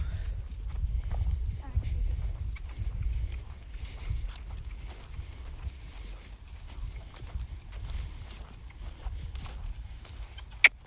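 A horse trots in a riding lesson, its hooves giving a soft, steady clip-clop rhythm at moderate distance while an instructor keeps talking throughout.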